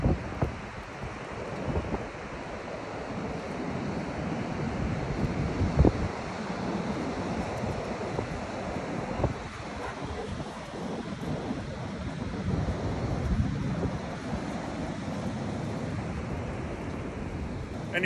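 Ocean waves and wind at a beach, a continuous broadband roar with surging swells and wind buffeting the microphone, steady and loud for the whole stretch.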